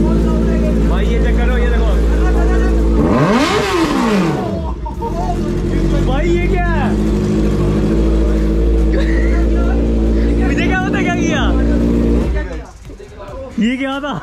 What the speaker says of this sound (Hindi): एंड गाइस बाइक हो चुकी है स्टार्ट